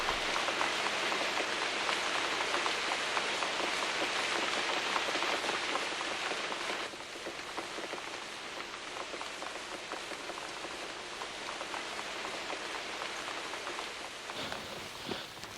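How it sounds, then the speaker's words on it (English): Steady rain falls in a temperate rainforest, a dense, hissing patter on foliage and ground. It is loud for the first half, then eases slightly but continues, with a brief splash or rustle near the end. "a particular kind of rainfall produced by mountains in the path of the westerly winds"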